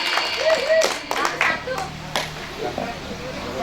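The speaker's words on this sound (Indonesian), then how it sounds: "Iya, kita beri aplaus dulu." Applause from an audience at a Ramadan quiz competition, a short burst of clapping with children's voices and talk over it, fading after a few seconds.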